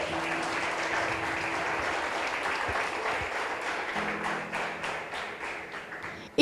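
A church congregation giving sustained applause, a dense wash of many hands clapping that gradually thins into scattered claps near the end, fairly loud and enveloping.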